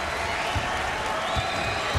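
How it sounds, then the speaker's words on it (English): Sustained applause from a college basketball crowd honoring a departing senior forward, a continuous wash of clapping with muffled crowd murmur and a few low thumps beneath. "Most of the crowd in ovation."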